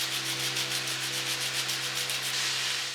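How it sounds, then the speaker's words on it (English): Lemon zest grated in a kitchen while cooking, a steady close rasping with quick rhythmic strokes and no talking. "Grate in a bit of lemon zest."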